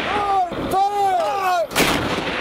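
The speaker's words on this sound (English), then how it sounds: "the mortars that we were watching fire while the airstrikes were being coordinated" Mortars fire during a close air support exercise with soldiers and airmen, a loud, close boom that bursts in after a voice and a steady rumbling background.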